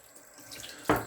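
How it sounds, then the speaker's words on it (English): Tap water runs into a sink to wet shaving lather, a soft steady trickle that swells into a louder, closer gush near the end, with no voices. "We're gonna add some water"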